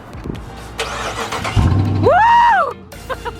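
A muscle car in Detroit cranks and fires up, a short sputter followed by the engine catching and revving up and back down in one loud close sweep before settling.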